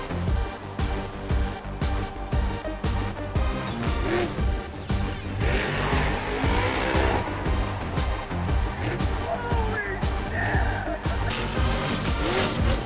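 Loud, continuous roar of heavy engines with rising revs and bursts of tire squeal, sustained throughout.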